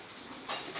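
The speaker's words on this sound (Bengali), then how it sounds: "ওর রান্না হচ্ছে।" Food sizzles in a hot pan with a steady hiss and two louder bursts of spitting, all fairly close and alone without talk.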